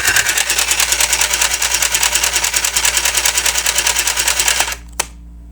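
A home sewing machine runs at speed, a loud, close, rapid mechanical chatter that stops abruptly near the end, followed by a single click.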